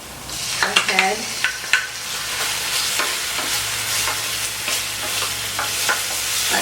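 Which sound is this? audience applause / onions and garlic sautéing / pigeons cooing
onions and garlic sautéing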